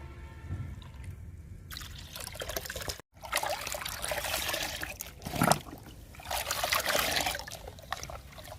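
Liquid poured onto flowering plants: a close, faint trickle and splash of liquid, continuous with shifting intensity and a brief pause partway through.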